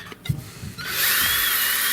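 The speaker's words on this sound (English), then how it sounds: "This is one part where power tools may come in handy." A power drill bores into a plastic Nerf Hammershot blaster part, a steady high whine for about a second after brief handling clatter, close and loud, no talk.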